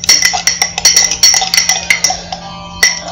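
Potions being stirred in a container give a rapid series of bright clinks and taps, close and fairly loud, and they thin out toward the end.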